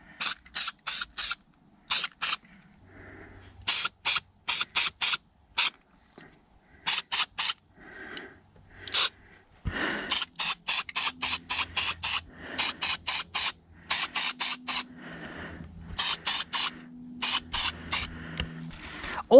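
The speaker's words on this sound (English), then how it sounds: "let's start painting" Aerosol primer sprayed onto car dash parts for an XW GS Falcon dash conversion, a rapid series of short, crisp hissing bursts in quick succession, close and dry with small clicks and handling noise between.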